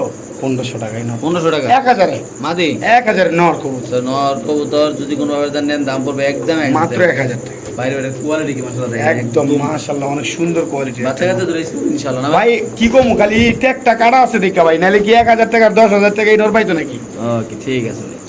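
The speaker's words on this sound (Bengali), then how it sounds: "এটা ক্লাসিক বন্ডি নেট কবুতর" Classic Bondi net pigeons cooing at a fancy pigeon farm, their soft rolling calls continuous and close, layered with steady talk and a faint insect-like high drone throughout.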